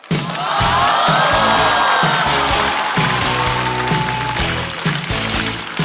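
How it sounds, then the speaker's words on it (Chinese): A stand-up comedy audience breaks into loud applause, cheering and whoops as a comedian is welcomed to the stage, rising quickly and staying strong before easing slightly near the end, with music playing beneath. "掌声欢迎阿秀。"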